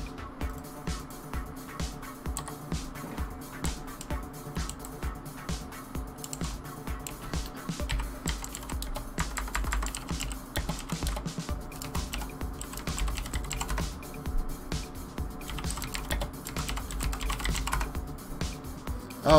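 Fast, steady clicking of keys on a computer keyboard runs for about twenty seconds, close and continuous, during a live Minecraft survival session, with no talking over it.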